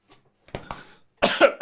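A single person coughs twice, short and harsh, with a brief pause between, close by and otherwise quiet.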